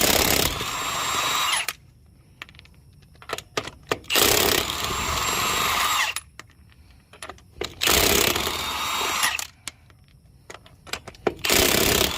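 A power impact tool spins lug nuts off a wheel of a Ford E250 van in loud, close whirring bursts of about two seconds each, separated by clinking and handling sounds of the loosened nuts.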